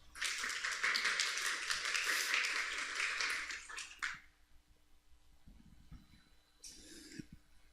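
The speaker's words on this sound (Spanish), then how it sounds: "los recibimos también con un fuerte aplauso" Audience applause at an international seminar on the 1700 years of the Council of Nicaea, a loud burst of clapping lasting about four seconds, then quiet room noise with a few faint sounds.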